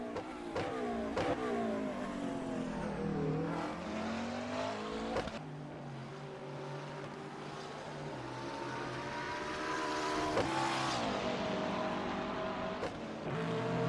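A Corvette GT3 race car engine in a sim racing game at Laguna Seca, revving loud and close through continuous gear changes, with rising and falling pitch sweeps and sharp shift breaks, other cars faintly audible.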